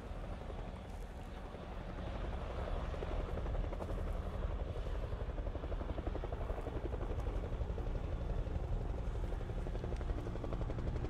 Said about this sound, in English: Is that a fucking helicopter?